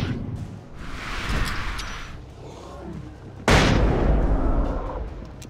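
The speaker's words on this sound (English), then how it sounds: "All you need to do is to launch a flashbang." A flashbang grenade in the video game Alan Wake bursts with a sudden loud blast and a roaring decay, preceded by a softer whooshing rumble.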